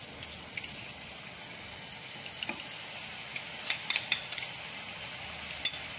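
Garlic, ginger and green chilli paste sizzling steadily in a pan on low heat as it is fried, a soft continuous hiss broken by a few faint clicks of a spoon stirring.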